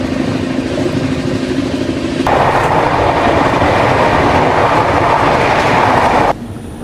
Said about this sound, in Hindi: और यहीं पे वंदे भारत ओवरटेक करे अपने को।